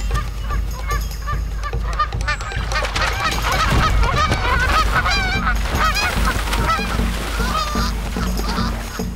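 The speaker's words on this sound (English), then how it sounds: "Canada geese make themselves big and threatening." A flock of Canada geese honks loudly and close by, defending against a fox, with many overlapping harsh calls in a dense, continuous chorus and no talking.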